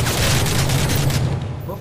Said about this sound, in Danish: Hvorfor rammer min skud ikke?